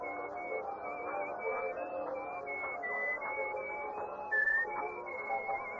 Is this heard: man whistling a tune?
yes